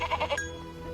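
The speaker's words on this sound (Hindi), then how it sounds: "पहाड़ी के दूसरी तरफ एक चरवाहा आदित्य अपनी भेड़ बकरियां चरा रहा था।" Sheep and goats bleating in a cartoon, a short run of quick wavering bleats in the first half second, then fading into background.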